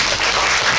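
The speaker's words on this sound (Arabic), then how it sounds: "صفقوا عليه" A television studio audience bursts into applause on a children's prize game show, a brief, loud, dense wash of clapping with no speech over it.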